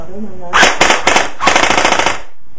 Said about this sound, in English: it is an electric blowback gun